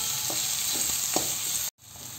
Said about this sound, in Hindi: भाग जो है हमारे पत्ते वाली वाले प्याज की, डाला और इसे भी एक मिनट तक चलाते रहेंगे।